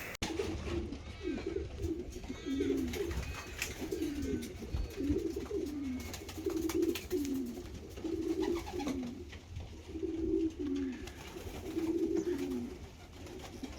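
Young pigeons coo in repeated soft, rhythmic phrases on their first time out, the calls close and steady over faint outdoor background with some low talking.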